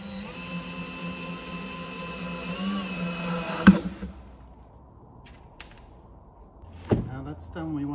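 A power drill drives screws into a kitchen cabinet, its steady high whine running for several seconds before cutting out, followed by a few sharp clicks and knocks in a quiet room.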